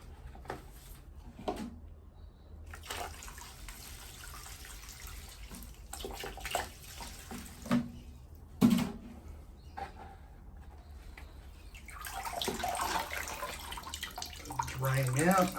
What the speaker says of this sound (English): Now to give him some water.